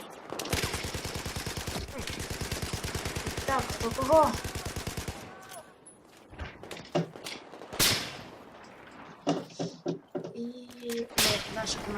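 Rapid automatic gunfire from the video game Battlefield 4 rattles for several seconds, followed by scattered single shots and thuds, with someone speaking briefly in between.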